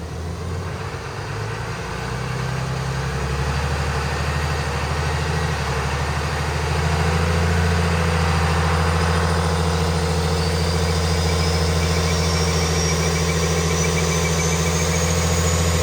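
A diesel pickup with a 12-valve Cummins engine runs on a dyno, its loud, rough clattering drone holding steady and growing slightly louder over about sixteen seconds, with no talk.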